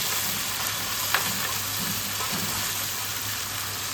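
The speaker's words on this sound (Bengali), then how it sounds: "এবার আমরা লঙ্কা বাটা দিয়ে দিলাম" Chili paste sizzles and fries among spices in a pan while a paneer curry is cooked, a steady close hiss with a few soft stirring scrapes and no talking.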